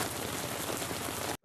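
Steady, dense rain falling in a Korean drama scene, an even hiss of many drops on surfaces that fills the whole moment with no voices, then cuts off abruptly at the end.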